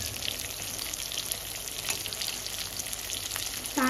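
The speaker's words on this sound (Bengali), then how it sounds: "আর এখন ভাজছি বেগুন ভাজা" Brinjal (eggplant) fries in hot oil in a home kitchen, producing a steady, close, fizzing sizzle with small crackles and pops all the way through.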